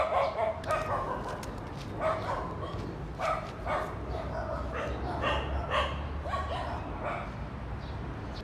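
Dogs bark and yip at an abandoned art school in Jiading, China, in repeated short bursts over steady background noise, with a voice faintly audible at times.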